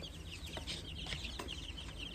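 Baby chicks in a new enclosure cheep in quick, high, overlapping peeps, faint and close against a soft noisy background, with no talk.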